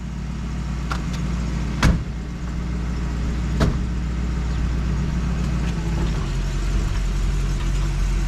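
An old 1967 Mercury Cougar engine runs steadily with a low rumble while driving, broken by a couple of sharp knocks or clunks, close by and fairly loud.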